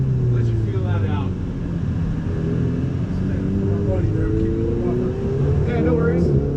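Ferrari 488 GTB engine driving on a race track, a steady loud rumble with rising and falling tonal engine notes throughout, under an instructor's talk during a track session.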